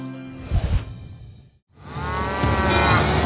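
A low, drawn-out moo from a cow with milk fever breaks off briefly and gives way to steady, loud rumbling noise.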